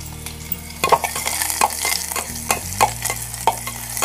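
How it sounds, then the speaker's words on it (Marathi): Kektad (ghaypat) flower vegetable sautéed with garlic and onion in a Kolhapur village kitchen: a loud close sizzle with repeated scraping stirs of a spoon against the pan, irregular clinks punctuating the frying. "आता हे परतून घेऊ."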